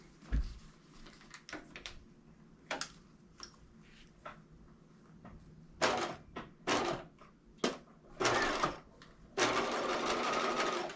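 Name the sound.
sewing machine stitching lace face mask channel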